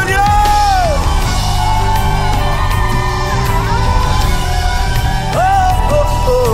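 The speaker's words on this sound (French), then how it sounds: "Des cris de victoire en ce lieu!" A loud crowd at a Christian youth worship gathering yells and whoops in victory, with sustained shouting voices and cheering filling the space over music throughout.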